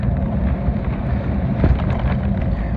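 Wind buffets a microphone with a constant low roar and rumble, gusting slightly now and then, loud and close, on a cycling trip into a headwind.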